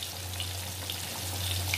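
Chicken coated in all-purpose flour fries in hot oil, giving a steady, close, continuous crackling sizzle with no voices over it.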